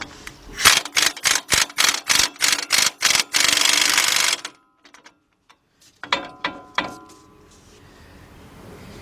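A strut assembly nut is loosened on a 2003 Lincoln Navigator with rapid, regular mechanical hammering in short bursts that merge into a sustained rattle. A quiet pause follows, then a few more brief ratcheting bursts.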